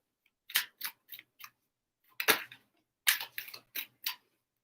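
Tarot cards being shuffled by hand in quick bursts of crisp riffling snaps, a cluster of four, a single longer riffle, then another run of five, close and fairly quiet with silence between.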